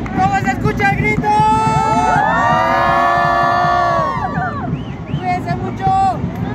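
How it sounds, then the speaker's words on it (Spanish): At a Catrinas procession parade, a loud crowd whoops and cheers in a long rising shout that swells and then fades back into general chatter and hubbub, close and dense throughout. "¿Cómo se escucha el grito?"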